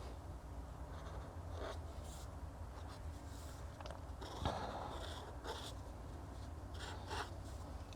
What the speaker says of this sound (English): I'm gonna draw these little guys.